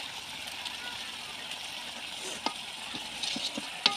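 Village-style chicken or beef curry with chilli powder fries in a pan, giving a soft, continuous sizzle with a few light stirring ticks near the end, faint and steady beneath a low voice.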